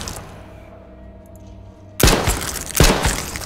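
Two sharp 9mm pistol reports in the H1Z1 survival game, about a second apart, each a loud broadband crack with a short tail following a quiet stretch of low room hum.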